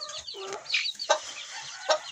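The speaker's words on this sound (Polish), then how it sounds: "Tu mamy kogucika akurat." Young chickens being moved, including crested hens and young roosters, clucking and chirping close by in short, uneven calls with a few sharper squawks.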